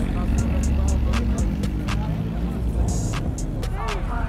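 A car engine revs at a car meet, a loud, close rumbling drone with rising pitch swells, under chatter and background noise.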